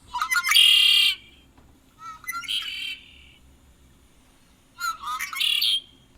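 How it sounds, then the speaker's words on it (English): Red-winged blackbird calling, three loud, close bursts of harsh, buzzy trilled song separated by pauses, with no talking over them. "Red-winged blackbird."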